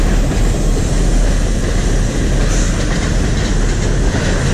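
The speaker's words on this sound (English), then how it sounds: "we got a freight train coming down the line" An eastbound CPKC freight train rumbles steadily beneath the MacLennan Avenue footbridge, a loud, continuous roar of rolling wagons with faint wheel clatter throughout, close and unbroken.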